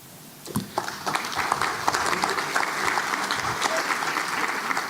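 Audience applause breaks out at an all-candidates forum: dense, steady clapping from a crowd that swells quickly and holds at a moderate, even level with no voices over it.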